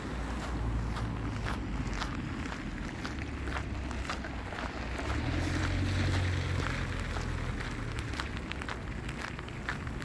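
Footsteps of people walking together outdoors along a path near a pond with wild ducks, a steady stream of steps on rough ground heard close over constant background noise, with no talking.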